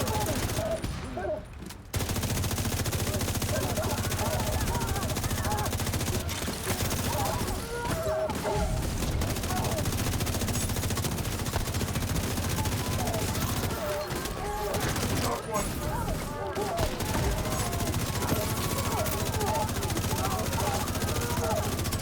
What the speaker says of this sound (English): Firing and hoping I see hit markers